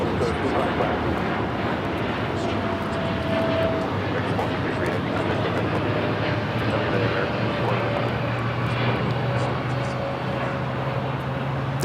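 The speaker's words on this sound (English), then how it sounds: "453 taking off to Dallas-Fort Worth on the 787-8 Dreamliner." An American Airlines Boeing 787-8 Dreamliner takes off at Los Angeles airport, its engines giving a steady, fairly distant roar with a low droning hum beneath, while radio chatter and voices run over it throughout.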